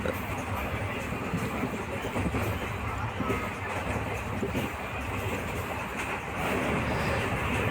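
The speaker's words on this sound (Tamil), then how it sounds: "அடுத்த நாள் நம்ம ட்ரெயின் ஏறி கிளம்பி சேலம் கிளம்பிக்கிட்டு போயிட்டுருக்கோம்" Inside a moving passenger train bound for Salem, a steady, loud rumble and rattle of the carriage runs continuously with a faint hubbub of voices underneath.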